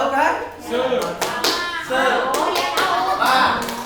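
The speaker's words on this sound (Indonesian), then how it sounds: "Oke, tepuk semangat 1 kali." A classroom group performs the rhythmic 'tepuk semangat' spirit clap, sharp clusters of hand claps in a patterned beat mixed with chanting voices nearby.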